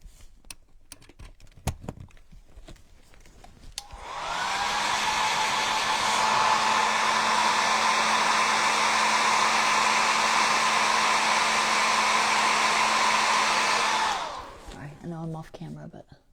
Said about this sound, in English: I'm just going to take a heat to this stamp